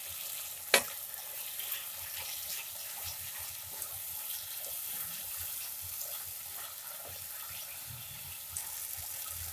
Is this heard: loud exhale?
no